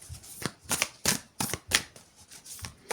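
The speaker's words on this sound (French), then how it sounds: "On prend une autre carte du tarot." Tarot cards are shuffled and drawn in a series of soft, close riffling bursts, about eight brisk swishes spaced unevenly over a few seconds, with quiet gaps and no talk.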